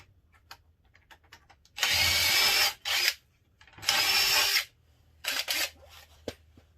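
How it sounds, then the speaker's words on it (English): A power drill pre-drills holes in wood for a DIY greenhouse, running in two long whirring bursts with a brief pause between them, then short stop-start pulses. It sounds close and loud against a quiet room. "I'm going to pre-drill the holes, that way I don't split the ends"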